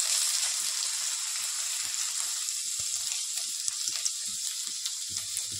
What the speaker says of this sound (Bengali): গাজরটা একটু শক্ত সবজি তো একটু ভাজতে হবে।